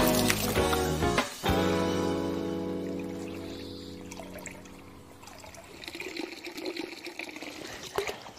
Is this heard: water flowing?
yes